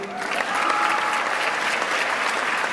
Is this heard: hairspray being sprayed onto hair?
no